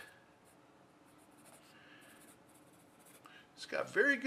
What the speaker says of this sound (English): For an HB pencil, it writes really nice and soft.